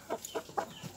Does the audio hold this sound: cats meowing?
no